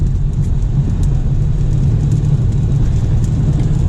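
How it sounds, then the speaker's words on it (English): A steady, loud four-cylinder engine drone from a 2021 BMW 430 Convertible, with low rumbling and road noise, continuous throughout as the car drives. "it's got a decent sound, even though it's just a 4-cylinder"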